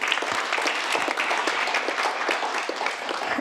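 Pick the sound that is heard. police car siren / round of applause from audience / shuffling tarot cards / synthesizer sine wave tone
round of applause from audience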